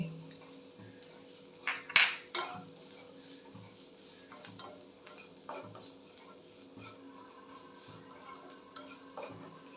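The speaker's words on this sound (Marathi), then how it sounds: "हे छान असं खमंग खरपूस परतून घ्यायचं आहे" Ridge gourd peel being sautéed in a pan with chilli, garlic and sesame seeds, giving a faint, steady sizzle broken by scattered scrapes and clinks of a spoon stirring against the pan.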